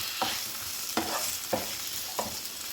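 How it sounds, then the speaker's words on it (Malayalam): Onions, small tomatoes and crushed green chilies sautéing in a pan for prawn biryani: a soft continuous sizzle, punctuated by four evenly spaced scraping stirs of a spoon, close and fairly quiet, with no voices. "ശേഷം എല്ലാം കൂടി ഒന്ന് വാട്ടി കൊടുക്കാം."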